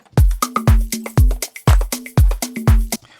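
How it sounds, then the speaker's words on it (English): Two clap samples from a drum pack layered together, striking in a steady repeating groove of sharp, bright, snappy hits with short tails, loud and close with nothing else underneath. "So now let's layer that with actually another clap."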